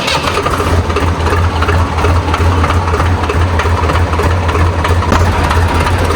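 A Swaraj 735 tractor's diesel engine idles steadily and loudly nearby, a constant low rumble holding for several seconds with no talk over it.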